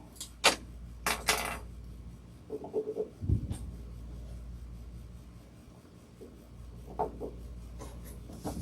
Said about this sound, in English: I'm going to draw my little 1/2 inch marks.